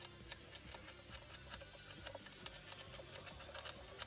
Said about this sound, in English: now using my fabric scissors, I'm just going to cut up that line